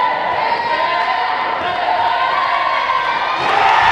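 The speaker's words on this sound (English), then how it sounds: "Crowd goes wild." A crowd at a boys' high school basketball senior night game roars and cheers after a free throw, a loud, sustained wall of shouting and whoops that swells near the end.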